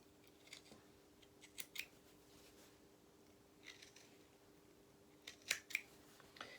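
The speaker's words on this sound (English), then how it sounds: "Okay, so we want to trim off these corners because that's going to be bulky. So let's just trim those off." Scissors trim the bulky seam corners of a felt doll's duffle coat, making several faint, close snips in small clusters over a quiet background hum, with no voices.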